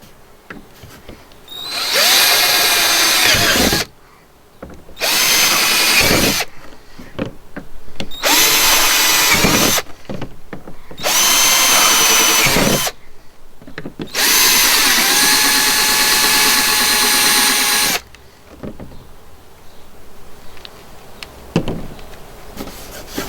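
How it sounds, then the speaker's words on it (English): A power drill whirs through a lid in five sustained bursts of a few seconds each, separated by short pauses, loud and close. "I'm just going to drill through"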